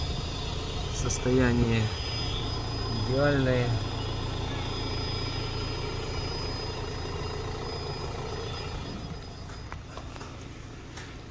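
A 2017 Renault Megane 4 wagon with a 1.5 K9K diesel and 125,000 km idles at the exhaust, a steady low hum throughout, with someone talking over the first few seconds.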